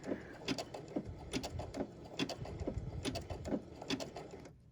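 A home sewing machine stitching back and forth across a quilt to tack the end of a satin-stitch seam, its needle clattering in a steady rapid rhythm with short sharp ticks, moderately quiet and close, without any talk.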